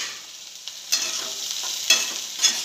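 Garlic okra frying in a pan and being stirred: a steady close sizzle with a few sharper scraping stir strokes, no voices.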